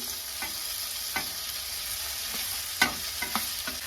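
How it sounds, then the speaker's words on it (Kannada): Cooked rice being stirred into fried vegetables and turmeric in a pan for chitranna, a steady soft sizzle with a few scraping stir strokes standing out, close and moderately quiet. "ಇವಾಗ ಇದರೊಳಗಡೆ ನಾನು ರೈಸ್ನ ಹಾಕೊಳ್ತಿದ್ದೀನಿ"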